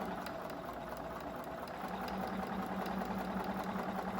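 A Bernina sewing machine fitted with a circular embroidery attachment runs a straight stitch at a slow, even pace, giving a faint, continuous motor hum with soft regular ticking throughout.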